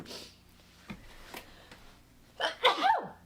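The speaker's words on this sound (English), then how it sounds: "I think I'm gonna sneeze." A person with bad allergies lets out one sharp sneeze close to the microphone after a few seconds of quiet breathing and small clicks.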